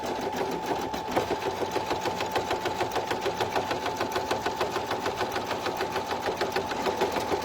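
An embroidery machine sews a single line of stitching around vinyl laid over satin for an in-the-hoop e-reader sleeve, its needle hammering in a fast, steady, even rhythm throughout at close range.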